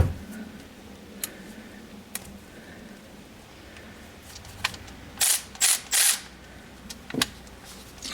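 A wrench works on a C7 Corvette battery terminal, with sparse faint clicks and a few brief, louder ratcheting bursts near the end against a quiet background, close up and without talk.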